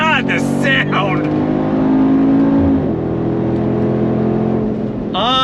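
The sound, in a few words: Mercedes AMG G63 G-Wagon engine revving on throttle in Sport Plus mode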